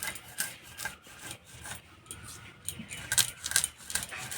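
Chana dal (chickpea lentils) grinding into a coarse powder for protein-rich naru gives off a faint, uneven rattling and rasping churn, with sharper gritty bursts toward the end.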